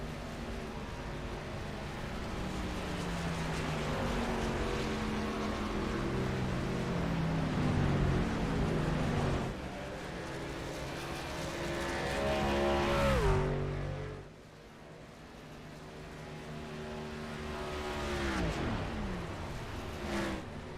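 Racing trucks in a SERL Truck Series race at Homestead, engines droning loudly as they run down pit road, pitch rising and falling through gear changes, with a sharp drop-off as one pulls away and a faint voice.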